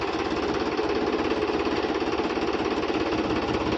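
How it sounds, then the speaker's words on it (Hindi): Tractor engine running at slow idle, a loud, close, steady chugging rumble with an even rapid beat and no voices. "बिल्कुल स्लो रेस पर ट्रैक्टर है"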